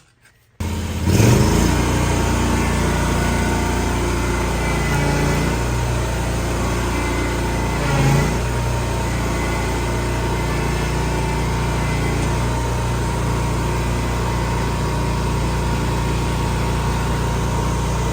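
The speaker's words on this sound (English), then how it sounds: "Steven will hop on the mower." A zero-turn mower engine drones steadily and close by while it pulls Green Giant arborvitae out with a chain, starting up abruptly and then holding a constant loud hum with a couple of brief surges under load.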